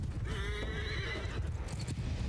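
Horse whinnying in a Mount & Blade II: Bannerlord battle, a clear rising neigh lasting about a second over a dense rumble of battle noise and hoofbeats.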